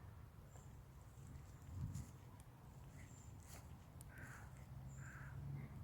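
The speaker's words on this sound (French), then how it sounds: "Là c'est les corbeaux là." A few faint, distant crow caws in open countryside, thin against a low outdoor rumble and background noise, with no talking.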